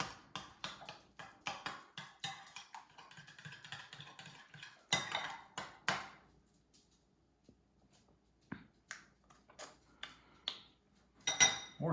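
Tonkatsu sauce stirred in a small dish, giving a run of light, quick clinks and scrapes of utensil on dish, loud at first, then a pause and sparser taps near the end.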